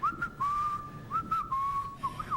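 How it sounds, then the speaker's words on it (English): A person whistles a few sustained, steady notes in short phrases with brief breaths between them, clear and close, with no talking. "give us a whistle"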